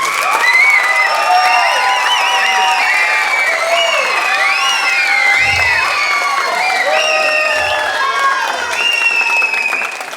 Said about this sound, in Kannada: ಫುಡ್ ಕಮಿಟಿ ಒಂದು ದೊಡ್ಡ ಚಪ್ಪಾಳೆ ಬರಬೇಕು.